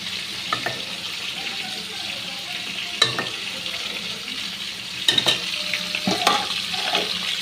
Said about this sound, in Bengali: ফুলকপিটা ভাজা হচ্ছে